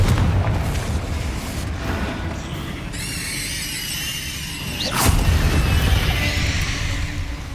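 Explosive spell blasts and magical combat effects in the Hogwarts Legacy video game, with deep booming bursts over a dense rumbling battle mix, a shrill squealing tone in the middle and a sharp burst near five seconds.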